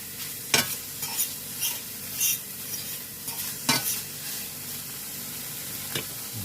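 Bacon and ham browning in a pan, a steady close frying hiss broken by a few sharp scraping stirs and clinks, with no talking.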